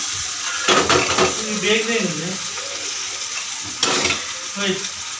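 Onion, garlic, ginger and tomato masala fries and sizzles in a pan while being stirred, with scraping strokes and a steady hiss, and someone talks over the cooking.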